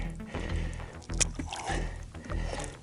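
Soft hissing and bubbling of air escaping from a small black sea bass's swim bladder, close by, over sloshing water and boat noise, with faint background movement.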